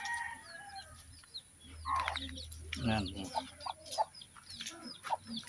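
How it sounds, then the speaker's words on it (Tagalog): Backyard chickens cluck and squawk close by in short bursts, with someone speaking briefly in Tagalog over them. "Yan yung ating mga alagang manok"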